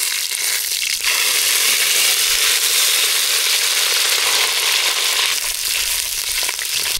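Mustard seeds spluttering in hot oil in a home kitchen, a dense, loud, steady crackle and hiss with no talking.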